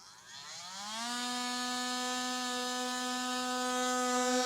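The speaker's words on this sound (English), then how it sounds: "So now I'll use an oscillator and get this cut out." Oscillating multi-tool cutting through the plastic rear fascia of a 2016 Toyota, a steady high-pitched buzzing whine that ramps up over the first second and then holds evenly, close and alone with no talking.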